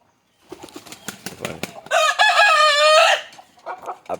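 Native country chickens in the morning, with a run of clucks and wing flaps leading into a loud, close rooster crow, then more clucking after it.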